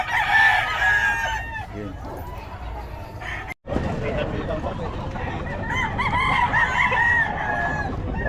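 A rooster crows loudly and repeatedly nearby, its calls rising over a busy background with people talking throughout.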